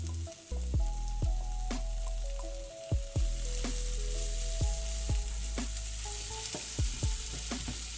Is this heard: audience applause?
no